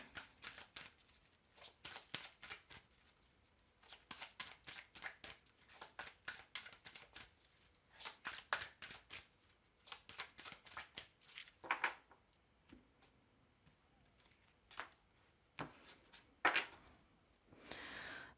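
Tarot cards being shuffled, a quiet, close series of rapid papery riffles and flicks in irregular bursts with short pauses between them.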